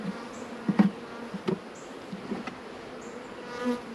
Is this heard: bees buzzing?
yes